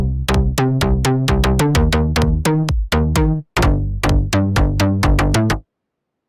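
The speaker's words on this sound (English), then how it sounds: "we have this kick and bass pattern that I made" A kick drum and slap bass pattern built with the Vital synth in LMMS plays as a steady, punchy loop. Thudding beats and plucked bass notes pulse loud and alone, with a brief gap near the middle, then stop abruptly before the end.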